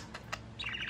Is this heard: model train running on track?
no